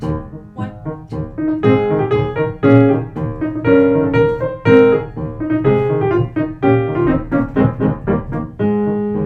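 A piano plays a piece in a bouncy 2/4 meter, with a lively melody over rhythmic chords and a light accent on each downbeat, heard clearly on its own without any talking.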